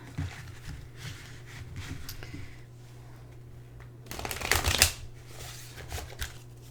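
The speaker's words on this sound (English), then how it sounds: "I'm going to pull a tarot card for you" Tarot cards being shuffled by hand in a quiet room, a soft riffling burst in the middle followed by fainter handling noises.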